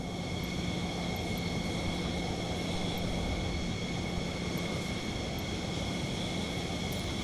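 Aircraft engine idling while taxiing at Odesa airport in a flight simulator, a steady, constant drone with a faint high whine, heard alone and moderately quiet throughout.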